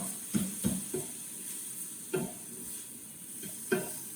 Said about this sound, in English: So we're just stirring that nicely.